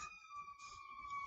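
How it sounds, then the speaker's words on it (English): A wailing emergency siren with steady, sustained high tones, moderately loud, with faint background rumble and no talking. "Sorry for those sirens, people."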